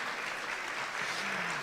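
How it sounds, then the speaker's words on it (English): A large crowd applauds at a school athletic awards ceremony, a dense, continuous wash of clapping heard from a distance at low volume. "all right, you can clap again, it's all right"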